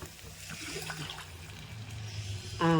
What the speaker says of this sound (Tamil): புளி ஊற்றிட்டு ஃபுல்லாக இந்த குண்டா ஃபுல்லாகவே நம்ம புளி கரைச்சி வச்சோம் இல்லையா அதை ஊற்றிக்கின்னு ஃபுல்லாக தண்ணி ஊற்றிக்கலாம்